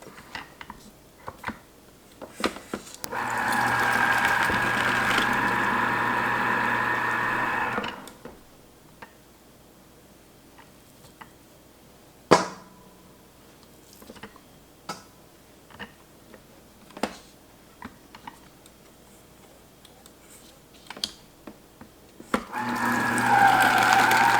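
A Breville citrus juicer running while oranges are pressed onto it, two bursts of a quiet motor whirr lasting several seconds each, separated by clicks and handling taps, close by.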